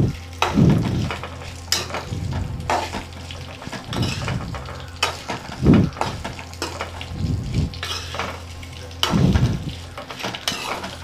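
Chayote peels frying in oil in a pan, a continuous sizzle broken by repeated scraping stirs at roughly two-second intervals, close and fairly loud, with no voices.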